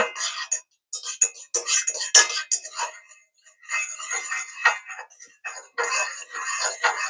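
A utensil stirs calendula salve as beeswax melts in a pot, giving bursts of scraping and light clinking with short quiet gaps between strokes, close and fairly soft.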